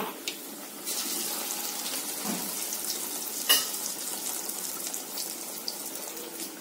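Sweet corn vadas frying in a pan of hot oil, a steady close sizzle and bubbling that runs throughout, with a few small clinks and splashes.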